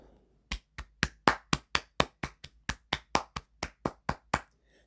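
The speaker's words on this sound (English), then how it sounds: "I want everybody to stand up and give this woman a clap." A crowd of people clapping in sharp, separate claps, about fifteen of them in a steady rhythm, loud and close, with no voices over them.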